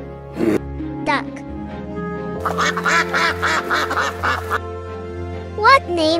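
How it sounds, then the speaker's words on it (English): A duck quacks in several short nasal bursts, loud and close, over sustained background music, with a louder flurry of quacks near the middle and one more at the end. "Duck."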